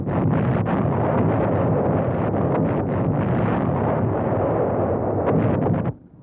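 Bomb explosions from B-52 bomber strikes dropped from 30,000 feet near Khe Sanh, a dense, continuous roaring rumble of blasts that stays loud and heavy for about six seconds, then cuts off abruptly, with no voices.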